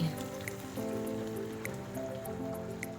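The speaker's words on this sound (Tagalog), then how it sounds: "Then, maglalagay na tayo ng tubig." Water runs steadily into a cooking pan of chili garlic squid, making a continuous splashing trickle with faint dripping, with no voices.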